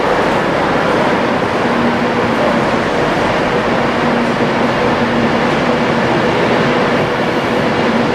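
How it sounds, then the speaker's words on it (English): Steady, loud rumble of a Virgin Pendolino 11-coach train heard from on board, continuous and even throughout with no voices. "11 coach Pendolino"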